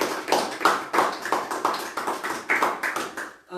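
A church congregation claps in a steady rhythm, acclaiming Jesus during a service, with about a dozen close, sharp beats coming in quick succession and no talk over them.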